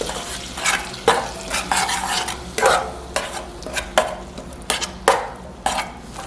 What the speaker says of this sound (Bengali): এবার এটাকে ভালো করে মিশিয়ে আরও কিছুক্ষণ কষাতে হবে যতক্ষণ না এই মশলা থেকে তেল ছেড়ে দেয়।